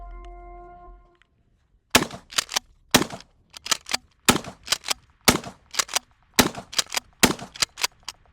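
A Mossberg 590S shotgun loaded with mini shells fires about a dozen sharp, loud shots in uneven pairs and triplets, each ending in a brief metallic clack. A short electronic tone comes before the first shot.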